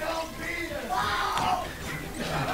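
A crowd of spectrators at a Super Smash Bros. tournament yells and cheers, fairly faint and distant, in an uneven wash of voices.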